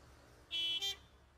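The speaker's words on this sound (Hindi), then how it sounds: "हॉर्न क्यों बजा रहा है?" A car horn in the Gas Station Simulator video game gives a short double honk, a loud bright toot broken by a brief gap, heard alone.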